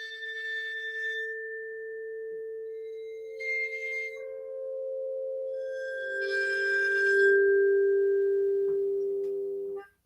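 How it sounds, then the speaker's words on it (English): Bowed vibraphone tones ring out in long, pure, glassy sustained notes, one overlapping the next, with a faint scraping shimmer at each bow stroke and no talking. "You can also play vibraphone with the bow, and it sounds quite interesting like this as well."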